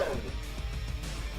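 Dogs fight during a 2v2 strategy game match on the Pinch Valley map, with short barks and yips over a dense game background and talking.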